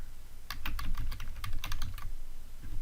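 Someone types code on a computer keyboard, a quick burst of light, close key clicks in an uneven rhythm over a low steady hum, with no talk.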